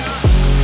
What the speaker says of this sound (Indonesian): di bawah sana ada sebuah air terjun ya guys